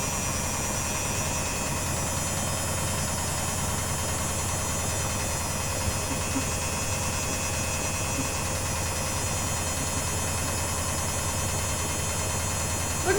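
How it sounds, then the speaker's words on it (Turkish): An Arçelik 7103Y washing machine spins at 600 rpm, giving a steady, loud mechanical hum and vibration that holds constant throughout with no voices. "Lazer makine arkadaşlar şeyde 600 devirde sıkıyor."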